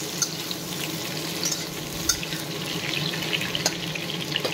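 Potatoes cut into long strips sizzle in hot mustard oil, a steady, close, dense hiss with faint crackles and no voices.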